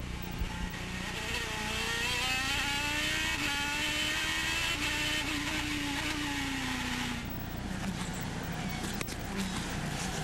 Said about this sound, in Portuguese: Vamos no ronco do motor do Elinho.